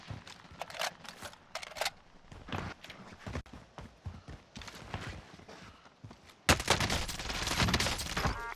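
Video game gunfire in a shooter, scattered bursts of shots and clattering impacts through the clip, growing into dense, sustained rapid fire near the end.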